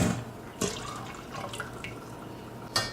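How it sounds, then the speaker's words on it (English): Yeast mixture poured into a bowl already holding milk, sugar, salt and water while making bread: a few short splashes and drips, fairly quiet, with soft kitchen background between them. "we'll go ahead and pour the yeast mixture into the bowl with the milk, sugar, salt, and water."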